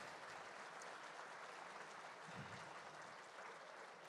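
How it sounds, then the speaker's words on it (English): Steady broadband applause at an awards night honoring the trophy girls, a dense even wash of clapping from a crowd held at one level throughout, with no voices standing out. "So give them a round of applause,"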